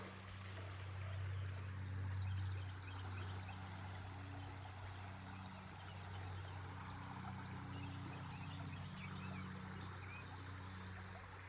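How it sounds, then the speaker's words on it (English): South Llano River at a state park campsite in Junction, Texas, flowing with a soft steady rush and trickle, faint and continuous, with a low hum underneath and no talk. "But this is the river, y'all"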